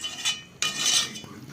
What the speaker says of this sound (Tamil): இப்படி நல்லா கிளறி விட்டு